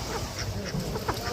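Ducks at a market quacking, a brief cluster of nasal calls close by over busy background murmur.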